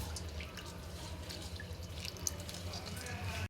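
Soaked rice is rinsed in water, giving faint sloshing and dripping that runs steadily at low level for a few seconds, with a brief splash near the middle.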